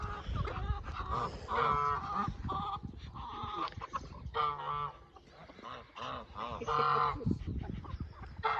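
Several geese, including Egyptian geese, honk loudly and repeatedly at close range, their calls overlapping in noisy bursts, with clucking laying hens mixed in.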